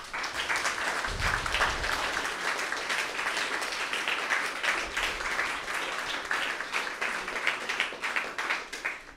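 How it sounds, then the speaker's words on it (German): A crowd applauds participants at the closing presentation of the Jugend hackt 2023 youth hackathon in Cologne, a dense, steady clapping that fills the space without pause and with no voices over it. "Deswegen dafür auch nochmal einen dicken Applaus."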